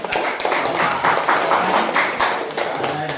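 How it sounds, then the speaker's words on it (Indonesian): An audience at a school vision and mission presentation claps hands in a fairly loud, close burst of individual claps that blends into applause and fades slightly toward the end. "Tepuk tangan lah untuk"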